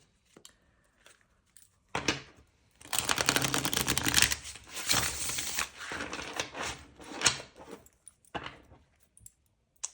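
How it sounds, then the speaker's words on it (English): Tarot cards being shuffled during a love reading, with a dense run of riffling and flicking that lasts a few seconds, set between sparse softer taps and handling noises, close and with no talking. "So let's have a shuffle."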